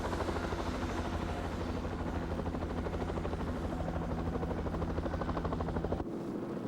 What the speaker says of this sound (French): des messages écrits sont largués par hélicoptère.